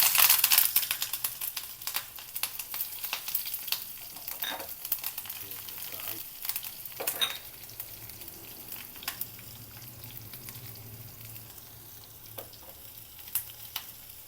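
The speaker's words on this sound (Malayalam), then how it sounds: "ചൂടായ എണ്ണയിലോട്ട്, വെളിച്ചെണ്ണയാണ് എടുത്തിരിക്കുന്നത്, അതിലോട്ട് നമുക്ക് കടുക് ഇട്ട് കൊടുക്കാം" Mustard seeds and small shallots frying in hot coconut oil for a Kerala kovakka pachadi, a steady close sizzle with scattered crackles and pops, loudest at the start and easing slightly over time.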